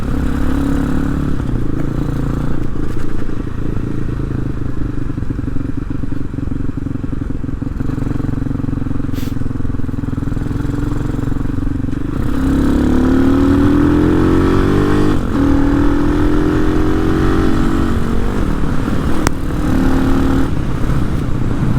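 A Hawk 250 motorcycle fitted with a swapped-in Loncin RE250 six-speed engine, said to need regearing, is ridden and pulls away in first gear. The engine drones loudly and continuously, its pitch climbing steadily as it accelerates.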